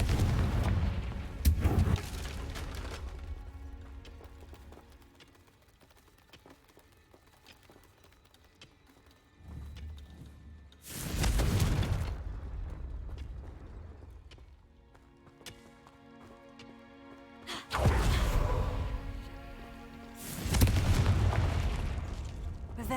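Confringo blasting-curse explosions in Hogwarts Legacy land as three heavy booming blasts spaced several seconds apart, each a loud broadband burst with rumbling decay, separated by quieter game ambience.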